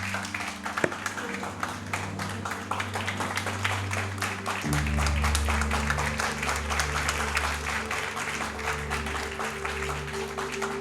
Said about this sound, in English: can we give him a last round of applause?